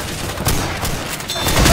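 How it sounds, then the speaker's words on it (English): A pipe bomb goes off in Left 4 Dead 2 amid gunfire during a chaotic multiplayer fight, with a burst of blasts and shots layered over steady game noise and a louder surge near the end. "Pipe bomb."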